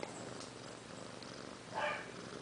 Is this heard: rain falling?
no